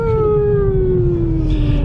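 A single drawn-out human howl, loud and close, slowly gliding downward in pitch, imitating a dog's howl on a road trip, with a dull rumble beneath.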